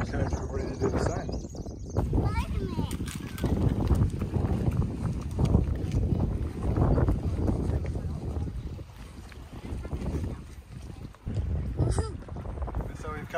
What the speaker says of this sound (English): It's a little bit breezy again, as you can probably hear